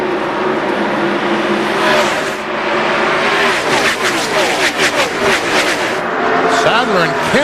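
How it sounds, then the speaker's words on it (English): NASCAR stock cars at the 2002 UAW GM Quality 500 roar past in a loud, continuous engine drone, with rising and falling pitch sweeps as cars pass close by and a race commentator talking over it. "Sadler and Kenseth comes by nose to nose"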